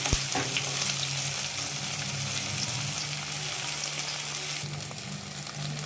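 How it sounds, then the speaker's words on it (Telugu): Sliced onions and green chillies frying in oil in a pan, a dense continuous sizzle heard close up with a steady low hum beneath and a few faint clinks. "ఉల్లిపాయలు పచ్చిమిరపకాయలు వేయించాలి"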